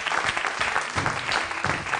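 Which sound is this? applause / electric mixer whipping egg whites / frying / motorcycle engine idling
applause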